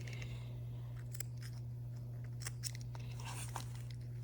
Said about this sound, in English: I'm just going to continue snipping into this all the way around